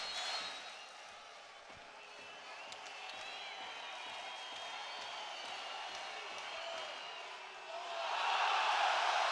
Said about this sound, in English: The crowd roar.